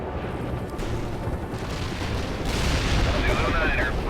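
Artillery fire from the video game World in Conflict booms and rumbles in a dense barrage that swells louder toward the end, with voices heard over the battle.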